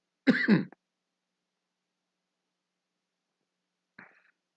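One short, throaty cough up close, then silence and a faint second rasp a few seconds later.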